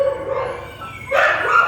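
An Alabai, a Central Asian shepherd dog, is a nursing female sitting with her small puppy at a stray-dog catching in Yakutsk. She gives a brief, tonal whining call, then a sharper, louder bark-like burst close by.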